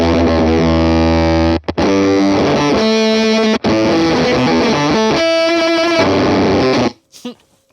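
A Motor Pedal synthesizer plays with the mod wheel adjusted, a loud buzzing, heavily distorted tone that steps between held notes with two brief cutouts, then stops abruptly near the end, leaving a short faint tail.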